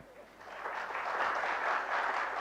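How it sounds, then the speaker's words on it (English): Sustained applause from a seminar audience on soil health, a steady broad wash of clapping that swells slightly and holds throughout, with no talking over it. "Big applause, please."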